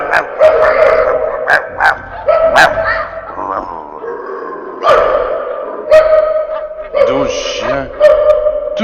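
A team of twelve sled dogs barks and yips excitedly in quick, overlapping bursts, close by, with whimpers and a howling tone mixed in.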